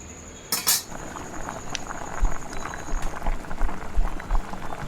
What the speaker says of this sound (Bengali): এবার এটাকে ভালোভাবে ফোটাতে হবে যতক্ষণ তেলটা বেরিয়ে না আসে